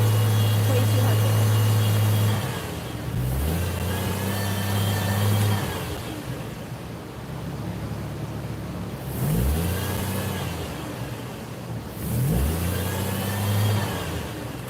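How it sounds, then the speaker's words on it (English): A Chevrolet Trailblazer engine that will not rev past about 2,000 RPM is revved repeatedly, loud rising and falling surges in several cycles, close by, with some background voice. "give her some revs"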